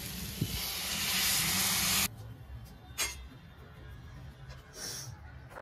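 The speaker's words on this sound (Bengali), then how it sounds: "এবার আমি এতে জল দিয়ে দেবো।" Water poured into a hot pan of cooking broccoli and shrimp sets off a loud, broad hiss of steam for about two seconds, then it drops to a quieter simmering sizzle with a few faint clinks.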